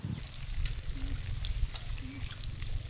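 Quiet trickling and dripping of water being drained from tiny river fish, soft and close, with a steady low rumble underneath.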